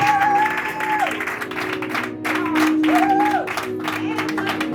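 A church congregation at a night worship service applauds and cheers loudly and steadily, with held sung or shouted tones rising over the clapping crowd.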